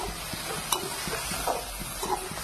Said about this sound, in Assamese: এতিয়া হৈ গ'ল কণী এটা ভাজি দিম